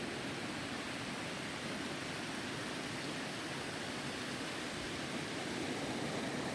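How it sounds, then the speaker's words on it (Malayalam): Clear water runs in a stream near a waterfall at Nigundi View Point in Karnataka, a steady, even rushing wash that fills the whole stretch without change or voices. "നല്ല ക്രിസ്റ്റൽ ക്ലിയർ പ്യുവർ വാട്ടറാണ് കേട്ടോ ഈ ഒഴുകി പോകുന്നത്"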